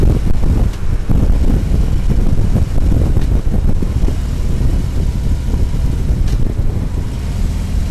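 Steady wind roar buffeting a rider on a moving motorcycle behind its fairing, a dense low rush with engine drone underneath, loud and continuous.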